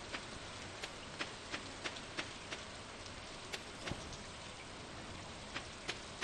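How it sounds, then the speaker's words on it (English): Rain falls on a rainy day in the farming video game Stardew Valley: a steady, even hiss runs throughout, dotted with scattered soft drop-like ticks. No one speaks. "It's a rainy day."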